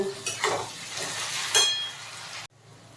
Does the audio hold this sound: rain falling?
no